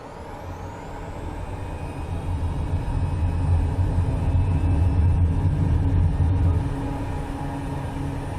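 Draco X bush plane engine running up for takeoff in Microsoft Flight Simulator 2024, a steady loud droning roar with a low rumble that swells over the first few seconds and holds, then eases slightly near the end.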